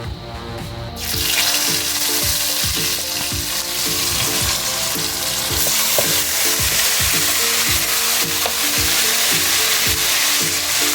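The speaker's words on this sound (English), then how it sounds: "my garlic has been browned on both sides, and that's how I know that my oil is ready." Garlic browned on both sides sizzles loudly in hot oil in a pan for Jamaican oxtail, a dense, steady crackle and spatter with scattered sharp pops that runs the whole time and has no voices over it.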